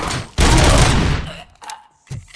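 Gunfire from a weapon in RoboCop: Rogue City, a loud sustained burst of rapid shots followed by a few shorter bursts and impacts, close and dominant.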